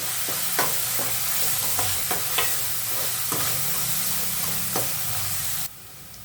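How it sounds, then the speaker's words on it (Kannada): Fenugreek leaves frying crisp in a pan, a dense, loud sizzle with regular spatula clicks and scrapes, stopping abruptly near the end, no voices. "ನೋಡಿ ಮೆಂತ್ಯ ಸೊಪ್ಪು ಚೆನ್ನಾಗಿ ಫ್ರೈ ಆಗ್ತಿದೆ"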